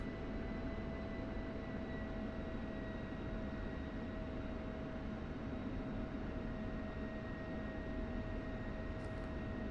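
An aircraft taxiing to parking in the DCS flight simulator game gives a constant, dense engine roar and hiss with a faint steady whine, unbroken throughout.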